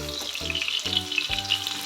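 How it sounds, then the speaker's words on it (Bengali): Cauliflower florets frying in hot oil give a steady, close crackling sizzle with soft stirring clunks. "এরকমভাবে ফুলকপিগুলোকে ফ্রাই করে নেবেন"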